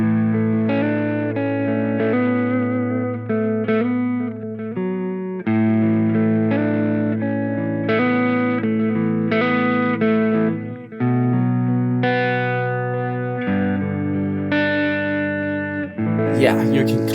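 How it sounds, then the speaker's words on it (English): A PJD St. John Elite electric guitar on its neck pickup plays clean, warm, round chords and single notes, each ringing and sustaining close and clear, ending with a brief noisy scrape. "here's the clean tones of this guitar in the neck position"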